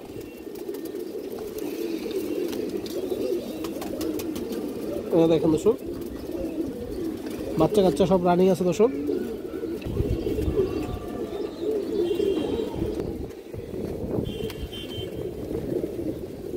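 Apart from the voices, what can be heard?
Kaldum high-flyer pigeons cooing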